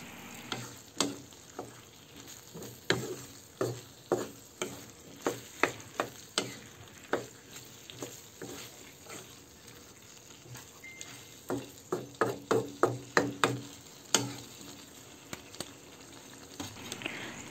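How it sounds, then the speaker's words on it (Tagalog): Ground pork with pineapple tidbits and their syrup sizzles softly in a pan while a spatula stirs it, making a run of close, sharp scraping taps in irregular bursts. The taps bunch up densely near the middle, with no speech. "Ayan, haluin lang natin yan ng mabuti."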